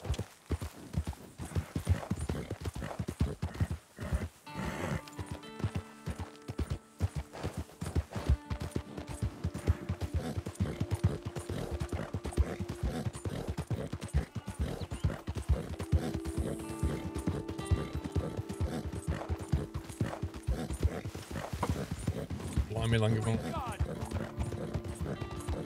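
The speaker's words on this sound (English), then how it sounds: "Horse just riding everywhere like crazy." A horse in Red Dead Redemption 2 runs flat out, its hooves drumming a rapid, uneven clip-clop with some stammering from the back legs, layered under game music and ambience with a brief whinny.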